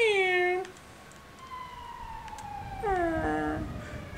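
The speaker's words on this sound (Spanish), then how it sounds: "Suenan las sirenas, estoy escuchando." A video game siren in Grand Theft Auto V at the Union Depository wails with descending, harmonic-rich tones, sweeps down, holds a long high note, then another falling wail, moderately distant with low rumble beneath.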